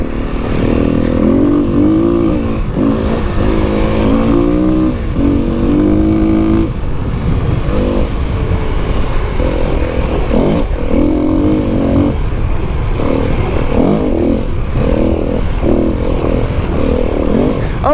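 A Kawasaki KLX300 dirt bike engine revs and burbles while riding slowly over big rocks in open desert, loud and close with pulsing throttle changes, clattering and rumbling throughout with no talk.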